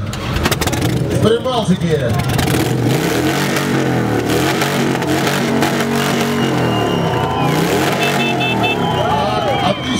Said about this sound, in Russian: слушаем Харли Дэвидса